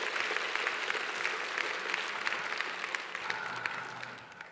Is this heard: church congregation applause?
yes